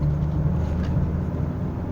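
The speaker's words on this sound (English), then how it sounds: "the exhaust note is actually quite fruity" A diesel car's engine and exhaust drone steadily from inside while driving, a low, even rumble with no pauses or voices.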